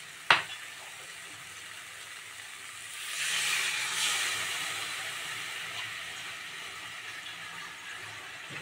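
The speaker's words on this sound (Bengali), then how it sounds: "সেদ্ধ ডিমটা এর মধ্যে দিয়ে একসাথে কষিয়ে নেওয়া হবে।" Boiled eggs sizzle steadily while frying in a spiced masala, a constant close hiss that swells midway after a sharp clink at the start, with no talking.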